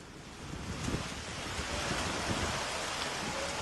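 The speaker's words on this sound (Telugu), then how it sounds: "కొన్ని ప్రాంతాల్లో వడగళ్లు కూడా పడ్డాయి." Heavy hailstorm rain in Miyapur, Telangana, a dense, steady wash of broadband noise with wind, continuous and fairly distant, no distinct hailstone impacts standing out and no voices.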